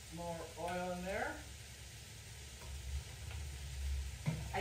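Finely diced onion sautes in oil in a pan for Salisbury steak, a soft, continuous sizzle under brief bits of talking at the start and end.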